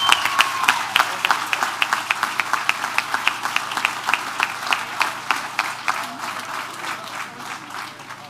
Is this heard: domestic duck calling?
no